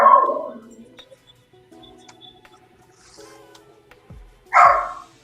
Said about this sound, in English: Dogs are going on.